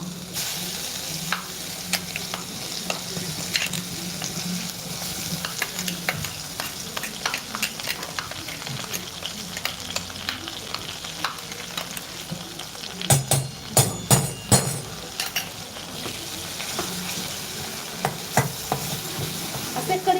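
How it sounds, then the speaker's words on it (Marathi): Green masala added to potato filling for aloo paratha, frying in a pan with a steady sizzle and repeated stirring scrapes and clatters, growing busier toward the end, with no talk. "आता हे झाल्यानंतर आपण त्यामध्ये आपला मसाला टाकूया छान छान हा हिरवा मसाला"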